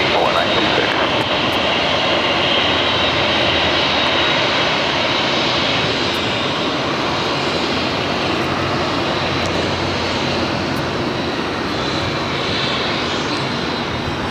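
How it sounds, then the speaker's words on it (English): A jet airliner's engines roar steadily, loud and continuous, as an Asiana Airlines A380 from Seoul approaches touchdown on the north side at Los Angeles International Airport. "Asiana Flight 204, a flight coming in from Seoul, A380 Super, about to touch down on the north side"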